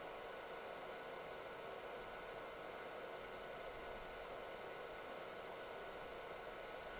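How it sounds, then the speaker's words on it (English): A soldering fume extractor fan runs nearby with a steady, even whoosh of airflow, faint and unchanging, with no other sounds. "because of my fume extractor and I kinda need it to survive"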